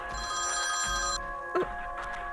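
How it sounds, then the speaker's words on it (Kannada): Phone ringing with an incoming call, an electronic ringtone sounding steadily and fairly close, then cutting off partway with a brief clatter. "ಮತ್ತೆ ಕಾಲ್ ಬರ್ತಾ ಇದೆ"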